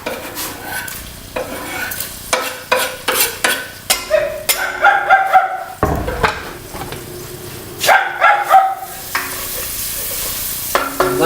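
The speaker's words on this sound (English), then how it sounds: "Lightly brown the onions." Fine-chopped onions and garlic fry in a pan while being stirred, and the sizzle comes in repeated scraping bursts with short pauses between them, close and loud.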